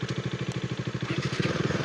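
Bajaj Dominar 400 motorcycle engine on an evening road ride, a close, loud, rhythmic thumping exhaust pulse that quickens slightly toward the end as the revs rise.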